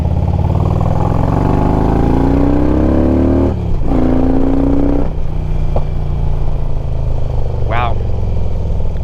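A Harley-Davidson motorcycle engine runs steadily throughout while being ridden, its low rumbling drone rising in pitch as it revs and then falling back at gear shifts, loud and continuous with no popping or crackling.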